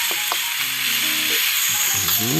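Spinach and sliced red chili are stir-fried in a pan, producing a loud, continuous hiss of sizzling oil with a few brief tonal scrapes and clatters from the stirring.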